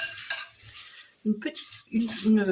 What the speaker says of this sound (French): bien tourner pour bien englober vos pétales de maïs dans le chocolat